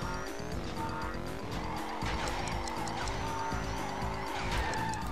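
A kart drifts with a continuous tire skid through a race in Crash Nitro Kart, the squeal running steadily under busy in-game music and engine noise.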